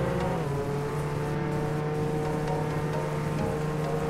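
A car engine in Roblox Jailbreak, fitted with level 5 engines, drones steadily at high revs under acceleration, loud and close, with a constant whine running through the whole stretch.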